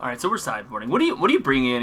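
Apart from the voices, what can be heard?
No distinct noise like a dog, phone or traffic.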